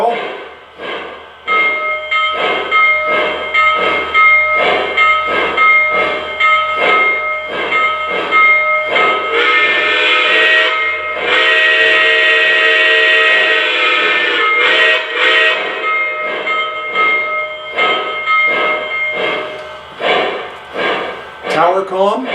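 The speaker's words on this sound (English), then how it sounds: "The bell." Bell of a Lionel Legacy 4-12-2 three-cylinder model steam locomotive rings steadily and loudly over rhythmic chuffing and hissing steam, close up, with no talk.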